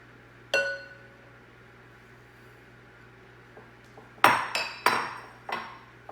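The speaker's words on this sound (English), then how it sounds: "now I'm gonna add in the sugar" Sugar is added to a bowl of beaten eggs, butter and peanut butter for a peanut butter chess pie, bringing a few clinks and scrapes of a utensil against the bowl, one early then a cluster of sharper knocks near the end, over a low hum.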